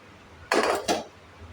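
A pot of boiling baby corn on a gas stove is handled: two quick metallic clanks of lid or vessel ring out close by, then a quiet background.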